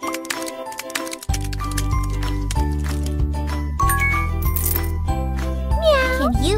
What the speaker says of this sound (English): Let's feed Kiki! First, open the can.